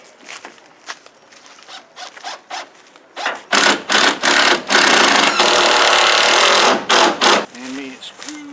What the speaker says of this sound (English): Go get another one of these screws in.